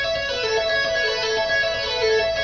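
An overdriven electric guitar plays a fast two-hand tapping sequence on the second string. It makes a smooth, continuous legato stream of sustained, buzzing notes at a steady level, with no other sounds.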